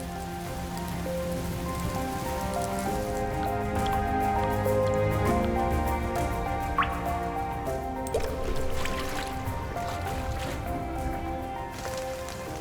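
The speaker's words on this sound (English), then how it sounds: "The abundant rainfall saturates every corner, ushering in a new chapter in the rainforest." Rain falls steadily in a Hainan tropical rainforest, dense droplets pattering and dripping on leaves and surfaces as a continuous close wash, with a few sharper individual drips standing out.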